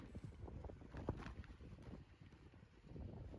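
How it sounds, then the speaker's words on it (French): Low, rumbling wind buffets the microphone in uneven gusts in a silent, snowy landscape in the Baltic states, a soft steady roar with nothing else breaking through. "Le bruit qu'on entend, c'est juste le vent."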